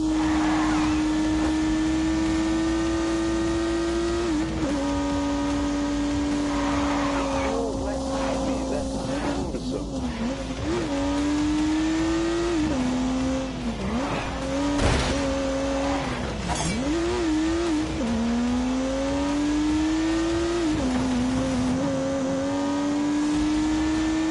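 A turbocharged 3-litre straight-six revs in The Grand Tour video game, its engine note rising and falling through repeated gear changes, loud and continuous for the whole stretch.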